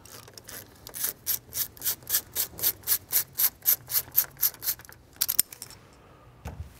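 A ratcheting socket wrench with a 13mm socket clicks in a quick, even series of about fifteen strokes while loosening a bolt on a BMW E46 M3 during an oil change, followed by a few faint metallic clinks.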